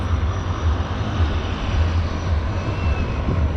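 Seaplane flying over the Victoria harbour floatplane airfield, a steady droning aircraft engine heard from a distance, continuous and fairly loud throughout without talking.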